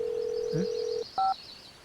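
A steady telephone dial tone hums alone, then stops, followed by a single short dialing beep before low background hiss returns.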